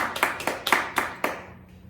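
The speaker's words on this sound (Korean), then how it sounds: "생일 맞으신 분들이 우리 축하 박수 드리겠습니다" A short burst of birthday applause at a church service, several sharp claps in an uneven rhythm that quickly fades out, fairly close and moderately loud.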